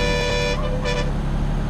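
A truck horn on a garbage tipper lorry in a driving video game sounds loud and close, first as a long blare and then as two shorter honks, over a steady engine drone.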